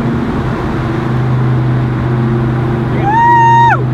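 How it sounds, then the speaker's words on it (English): The big engine of a 1966 Beaumont rumbles loudly and steadily as the car drives, with a rising whine near the end as it revs and shifts down a gear. "But this car, the sound, the feel, Rhonda called it a beast."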